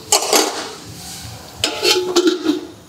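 A lid set over a pan of carrot halwa cooking in ghee on a low flame, giving a few light metallic clanks and scrapes, close and fairly loud, with no talking.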